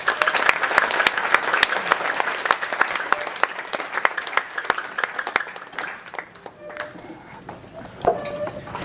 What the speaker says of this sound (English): Now give him a warm round of applause.